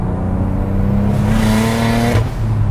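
A 660 bhp single-turbo BMW 335i with an N54 engine revs hard, a sustained rising drone that climbs and then cuts off sharply before settling back to idle.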